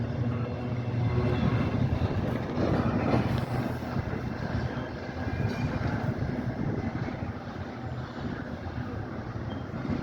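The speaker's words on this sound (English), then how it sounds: "There's a train" A train rumbles past nearby with a steady, broad roar and rattling of cars, continuous and fairly loud throughout with no talking.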